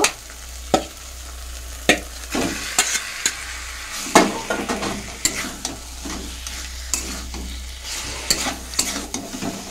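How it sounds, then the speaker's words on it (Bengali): Chicken meat is stirred into frying spice paste in a pan for a Bengali red chicken curry with pui shak stems. A steady sizzle sits under repeated sharp scrapes and knocks of a spatula at an uneven pace, close by, with no talking. "এবার আমি মাংস দিয়ে দিচ্ছি"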